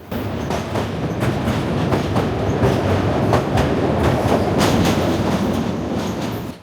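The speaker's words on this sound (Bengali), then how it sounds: "টঙ্গী পার হয়ে আমাদের ট্রেন ডানে মোড় নিল" The Parjotak Express runs from Dhaka toward Cox's Bazar, heard from on board as a loud, continuous rumble with rhythmic clacks of wheels over rail joints.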